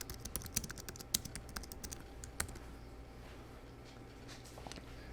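Typing on a computer keyboard, with a quick burst of crisp key clicks at the start and then sparser, scattered taps over a steady low room hum.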